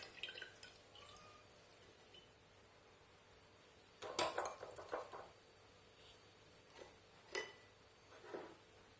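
Prunes soaked overnight with cinnamon are drained, giving faint, sparse drips and a couple of soft clinks of dishware against a quiet background.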